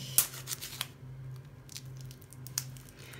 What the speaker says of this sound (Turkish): Şimdi kimyonlu guda peynirini açıyorum.